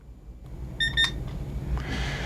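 A dental timer set for two minutes while an impression tray sits in the mouth gives a short burst of high electronic beeps near the middle, over a low steady room rumble.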